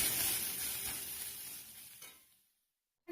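Crushed garlic stirred and lightly fried in a pan for a fish-head rice dish: a soft, even hiss of hot oil for about two seconds that fades into silence, followed by a brief bump at the end.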